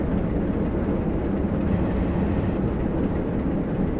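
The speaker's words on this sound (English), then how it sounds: "So let's apply locomotive brake now." Locomotive brake applied in the Train Sim 2021 game, heard as a steady, dense low rumble and hiss of the train that holds evenly throughout with no talk.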